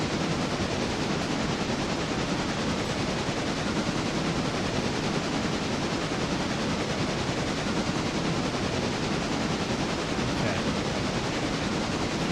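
A White Pass & Yukon locomotive runs in the Railroader video game, making a loud, continuous rumble with rattling wheel noise throughout and no speech.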